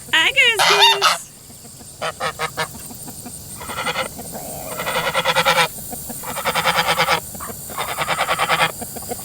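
Goose honking in a garden: a loud, close series of rapid, rhythmic honks in several bursts that grow stronger toward the end, with no voices.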